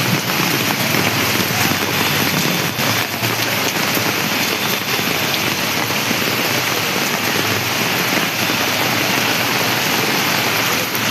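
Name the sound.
heavy rain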